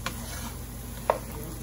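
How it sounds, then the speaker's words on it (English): Potatoes and chorizo stirred together in a frying pan, a soft steady sizzle with a couple of brief utensil scrapes and clinks, quiet and close. "le vamos a poner la papa, el chorizo. Todo junto, we're gonna mix it in."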